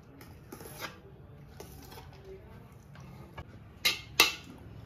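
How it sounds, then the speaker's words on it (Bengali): Cooked rice spread across a pot with a metal spoon while layering chicken biryani: quiet scraping and rubbing, a few light clinks, then two sharper metallic knocks near the end. "ভাতটাকে এভাবে পুরো ছড়িয়ে নিতে হবে।"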